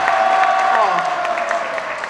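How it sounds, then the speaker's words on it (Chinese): Audience applause rings out at a national skills competition ceremony in Tainan, a steady, loud wash of clapping from a large crowd lasting about two seconds, with a voice briefly heard over it. "我们是不是给我们的大家长黄市长一个热烈的掌声"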